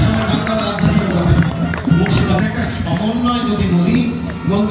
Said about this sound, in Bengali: করতালি দিয়ে অভিনন্দন জানায়